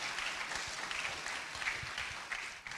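Audience applause at the Asantehene Otumfuo Osei Tutu II art awards ceremony, a steady patter of many hands at moderate distance, with a few louder individual claps standing out.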